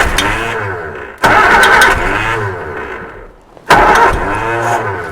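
A Reliant Supervan engine, running again for the first time in 37 years, cranks and catches twice, each start a loud burst of rough mid-pitched engine noise that settles into uneven idling before dying away.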